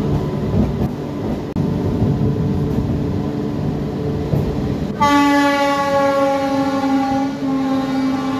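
A Howrah–Purulia local MEMU train runs with a steady, loud rumble, then a long, sustained horn blast starts midway and holds to the end, sounding close.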